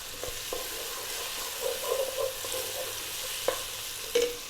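Ground cumin and coriander powder sizzling in a hot pan over above-medium heat, a soft steady fry with a few light stirring scrapes and clicks, close and fairly quiet.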